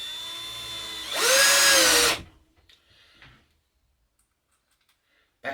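A Mailtank cordless power drill drives screws, starting with a steady whirring spin, then rising to a louder, strained burst for about a second before stopping. Faint clicks follow.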